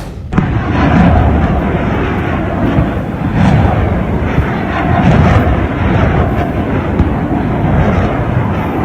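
A US Patriot missile battery fires interceptors one after another, a loud sustained roaring rumble with repeated surges of thunderous blast noise, heavy and broadband throughout.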